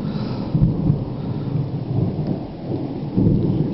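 Steady rain falling during a summer thunderstorm in Finchingfield, Essex, with low rumbling swells of thunder.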